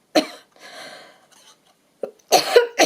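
A woman coughing, a few short harsh bursts separated by quiet gaps, close and fairly loud, with a breathy sound between them.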